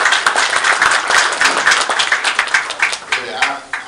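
An audience claps steadily for a few seconds at an introduction on a radio program, a dense burst of hand claps that thins out toward the end, with speech mixed in.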